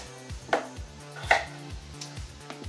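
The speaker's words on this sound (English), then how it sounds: "I'm just gonna kind of give them a little rough slice and dice, maybe quarter them." A knife chopping potatoes on a cutting board, a few sharp, distinct thuds spaced unevenly, close and clear with no talking.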